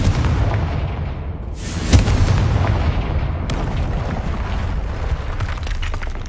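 A Confringo spell explodes in Hogwarts Legacy, a loud booming blast with a sharp crack and heavy low rumble that keeps roaring on, close and dense, with no speech heard.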